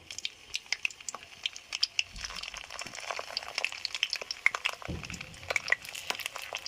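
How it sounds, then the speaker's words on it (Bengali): Pieces of pointed gourd (potol) sizzle in hot oil in a pan, with steady crackling and scattered sharp pops close by, alongside a few soft clatters of cookware. "পটলটা এমনি দিয়ে দেবো, ভাবে একটা একটা করে দিয়ে দেবো, দিয়ে ভেজে নেব ভালো করে"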